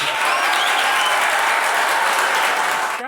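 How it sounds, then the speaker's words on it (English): Inserted applause sound effect in a podcast episode, a dense, even wash of clapping from a crowd that runs steadily for about three seconds and cuts off at the end, with no talking. "I'll put the clapping audio."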